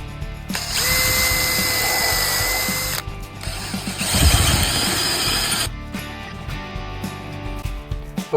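Power drill whining in two long bursts into steel dump trailer hinges being drilled and tapped for grease fittings, with clicks and rattles between, then quieter mechanical ticking and handling noises near the end.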